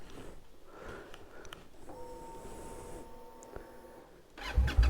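Indian Scout Bobber motorcycle engine idling and revving nearby, a steady mechanical drone with tonal whine that swells into a loud, close burst of throttle at the end.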